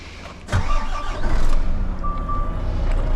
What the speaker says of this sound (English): It's got no air or anything, so lots of beeping